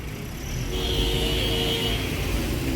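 Car traffic on a street in Paramaribo, Suriname, a steady moderate roadway rumble of passing vehicles that builds slightly after the start and continues evenly.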